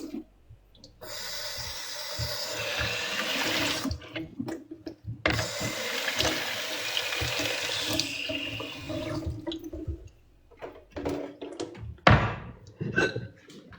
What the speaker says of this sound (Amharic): አሁን እንደዚህ ውሃ ሙላ፣ እንደሱ ውሃ ሙላበት።